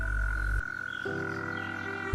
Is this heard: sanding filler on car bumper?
no